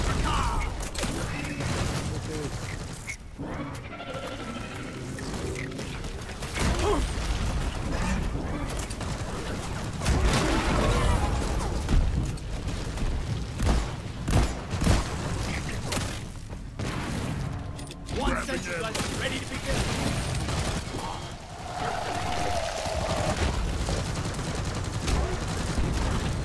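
Shotgun blasts at skeet targets in the video game Professional Skeeter 2, a run of sharp shots at irregular intervals over a dense, loud game soundtrack.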